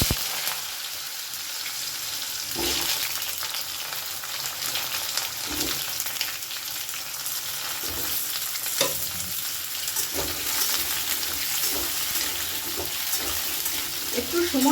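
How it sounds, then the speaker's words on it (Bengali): Diced raw papaya fries in a pan with cumin tempering, a continuous close sizzle broken by repeated scraping stirs of a spoon, with a few faint voice murmurs. "ধরে ভালো করে এটাকে আমি ভেজে নেব"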